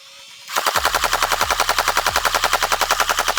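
A Tokyo Marui MK46 Mod.0 next-generation recoil airsoft light machine gun fires one sustained, rapid burst of evenly spaced, punchy shots at close range, with no talking.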